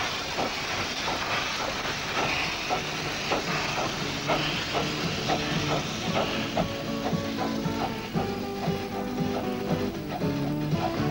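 A one-third scale steam locomotive modelled on London and North Eastern Railway express engines hisses steadily, with rhythmic clicking and clanking running underneath throughout.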